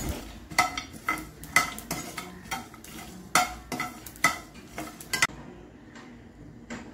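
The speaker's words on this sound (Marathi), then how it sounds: "मी गॅसवर ठेवली आहे कढई, आणि काजू, खसखस, तीळ आणि मेथी दाणे भाजून घेणार आहे" Cashews, poppy seeds, sesame and fenugreek seeds dry roast in a kadai on a gas stove. A spoon scrapes and clinks against the metal in quick, irregular strokes, close and crisp, over a faint background.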